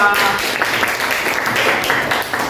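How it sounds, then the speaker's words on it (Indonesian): Classmates clap for a student group about to present in a classroom, a short burst of dense, fairly close applause with some voices mixed in. "beri tepuk tangan untuk kelompok 2"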